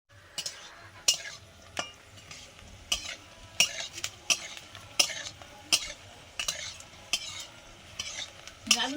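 Papad frying in a pan, a low sizzle under a series of sharp metallic clinks and scrapes as a utensil stirs and strikes the pan, about a dozen irregular knocks.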